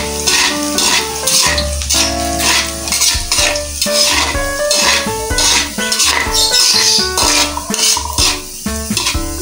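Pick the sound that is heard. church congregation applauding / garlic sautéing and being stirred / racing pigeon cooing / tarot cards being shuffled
garlic sautéing and being stirred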